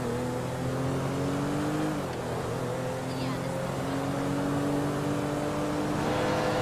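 A car drives in Grand Theft Auto V during a chase after a boat, its engine droning steadily with pitch that dips and climbs as it shifts, while voices talk over it at times.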